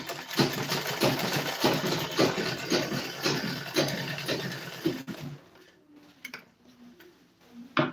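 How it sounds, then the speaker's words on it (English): A sewing machine stitches a pencil skirt with rapid, rhythmic mechanical ticking for about five seconds, then stops, leaving quiet room tone with faint small clicks. "So I'll be sewing from that place."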